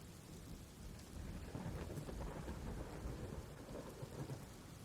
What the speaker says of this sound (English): You hear all this thunder mounting overhead.